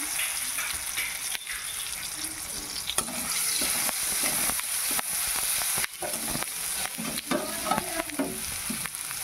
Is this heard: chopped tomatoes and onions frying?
yes